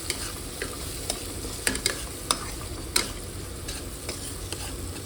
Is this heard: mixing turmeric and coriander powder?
yes